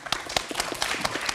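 Studio audience applause on a Vietnamese TV word-game show, a short burst of quick, loud clapping close by, with no speech.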